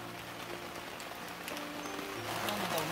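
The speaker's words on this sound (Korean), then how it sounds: "비가 제법 오네요" Rain falls at a small reservoir, a soft, steady patter of drops on surfaces that stays faint and even throughout.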